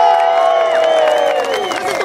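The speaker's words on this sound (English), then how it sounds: "Let's give them a great round of applause." A rally crowd in Brooklyn protesting illegal migration cheers and claps loudly, a short burst of whoops and shouts over dense applause.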